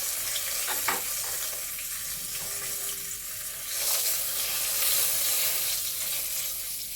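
Bay leaf, two dried red chillies, cinnamon, cardamom and cloves sizzling in hot oil for doi katla, a steady close crackling hiss that swells louder midway, with no voices.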